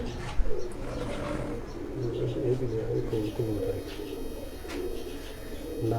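Lakha pigeons coo in low, repeated rolling calls, fairly close, while someone talks over them and soft rustling and handling sounds come and go.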